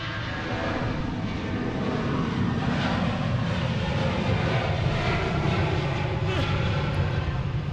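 Fixed-wing airplane taking off from runway 28 left at Portland International Airport, a steady broad engine roar that stays loud and continuous throughout, with faint talk mixed underneath.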